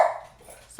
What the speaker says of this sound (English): the washing machine clicked off and the dogs think somebody's breaking in the house